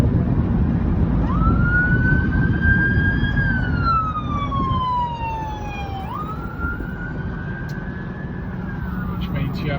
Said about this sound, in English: Which means you have this ambulance trying to fight its way through rather than be able to use the hard shoulder.